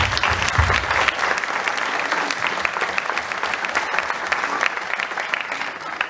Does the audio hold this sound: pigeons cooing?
no